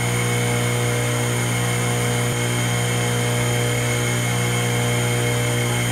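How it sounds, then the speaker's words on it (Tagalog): Water pump 1 in a two-pump alternating setup with manual and automatic control runs with a steady, loud mechanical hum and constant whine, continuous and close throughout, with no talk. "pag paling natin dito sa ating pump 1, aandar yung pump 1"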